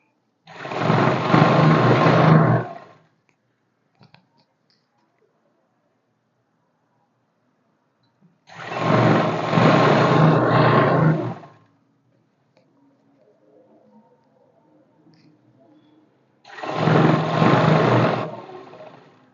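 Sewing machine stitching a seam on a pair of straight pants, running in three steady whirring bursts of about two to three seconds each, close and loud, with quiet gaps between them.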